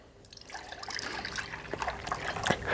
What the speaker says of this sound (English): Now get your milk and you're going to want to pour it into your measuring